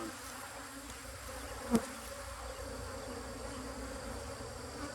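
Honey bees buzz in a dense, steady drone at an opened beehive during a deep box change at an apiary, with one brief sharp knock partway through.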